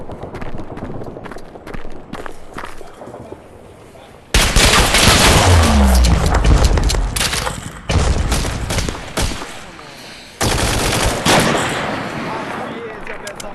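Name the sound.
MG4 machine gun fire in a video game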